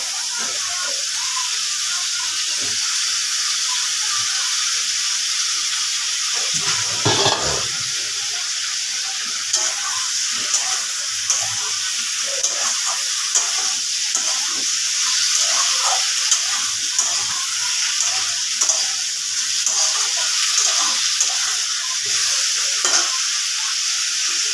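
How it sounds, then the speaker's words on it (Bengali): Potatoes and onions fry together in a pan with a steady, close sizzle and hiss that runs the whole time, joined by occasional scraping stir strokes. "আলুগুলো এতে দিয়ে দিই, একসাথে ভাজা হয়ে যাবে।"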